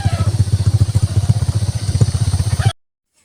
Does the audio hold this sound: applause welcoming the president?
no